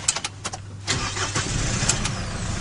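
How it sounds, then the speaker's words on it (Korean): The engine of a forest-fire suppression truck at a 119 safety centre cranks with a few quick starter bursts, then catches and settles into a steady close idle. "위로 올리고 차량 시동을 킨 다음"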